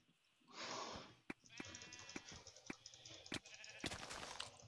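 Sheep bleats from the video game Sheep Quest, a long wavering bleat followed by sharp clicks and a tangle of overlapping game noises and pops, with a player talking over them.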